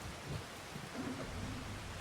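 Steady rain hisses with a low rumble of thunder in Farming Simulator 25, a constant, fairly quiet wash of weather sound with no voices.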